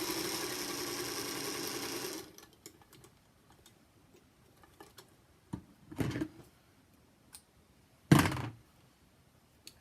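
A sewing machine runs in a short burst while stitching a Tula Pink quilt, then stops, followed by quiet handling thumps and a couple of louder knocks.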